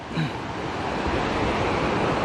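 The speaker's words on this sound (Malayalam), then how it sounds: "ഇവിടെയാണ് വെള്ളച്ചാട്ടം." Ambatheertha Falls in Chikkamagaluru, a waterfall over black rock, gives a continuous broad roar of rushing water that fills the whole moment without letup, with no speech.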